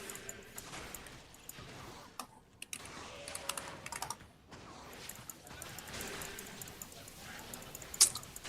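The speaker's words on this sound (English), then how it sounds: "Just typing here quickly" Rapid, close typing on a computer keyboard runs steadily throughout, with a faint low murmur underneath and no clear speech.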